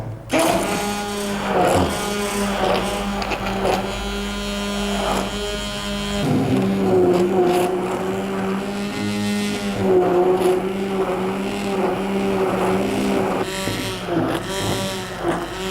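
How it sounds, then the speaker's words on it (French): A high-shear mixer emulsifies body lotion with a steady, close, buzzing whine that shifts pitch as the load changes, running continuously without voices. "Nous commençons toujours avec le batteur au cisaillement."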